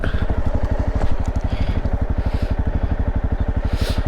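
A Honda motorcycle's engine runs while riding, a loud, close, rapid regular firing pulse that stays steady throughout, with light clatter and wind on top.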